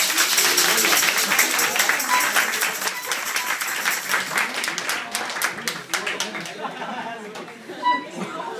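Applause from an audience after a school band's performance, broad clapping that starts dense and loud, then thins into scattered claps under a voice speaking over it.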